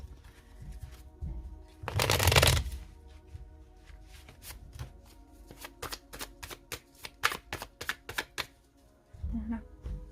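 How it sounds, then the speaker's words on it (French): Tarot cards shuffled and spread across a table, with a loud riffling burst near the start followed by a run of crisp, evenly spaced card slaps and taps, close up, with faint low murmurs in between. "Allez, on étale le tarot et après on passe à l'interprétation"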